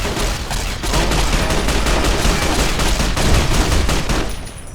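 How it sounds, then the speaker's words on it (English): Sustained automatic gunfire from a turret in Fallout: New Vegas, a dense, loud stream of rapid shots in an underground area, running nearly unbroken for several seconds before easing slightly at the end. "why would the turret be shooting at me and not them?"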